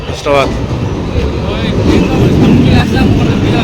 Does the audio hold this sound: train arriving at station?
yes